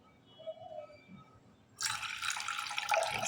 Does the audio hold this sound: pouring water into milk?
yes